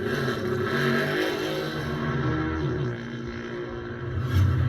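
A classic four-cylinder Honda racing motorcycle at the 2018 Senior Classic TT on the Isle of Man, racing down St Ninians and through Bray Hill at speed: a loud, continuous engine roar that swells and dips as it passes.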